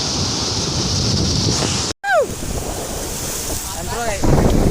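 Rushing water at Gokak Falls during the monsoon roars loudly and continuously, buffeted by heavy wind against the microphone, with a brief cut partway through and faint whistling tones after it.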